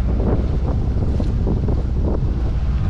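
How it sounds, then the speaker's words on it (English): Strong wind buffets the microphone aboard a sailboat heading out through breakers along the Ningaloo coast at sunrise, a loud continuous roar mixed with the wash of waves against the hull, no voices. "The wind's picking up"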